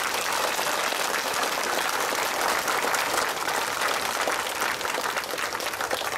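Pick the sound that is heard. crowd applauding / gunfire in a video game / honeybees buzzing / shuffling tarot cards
crowd applauding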